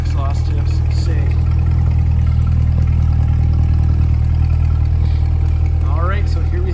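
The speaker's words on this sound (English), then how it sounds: "And listen to those black exhaust tips sing." A 2025 Chevrolet Corvette 3LT V8 idles with a deep, steady exhaust rumble throughout, loud and close, with a person talking faintly over it.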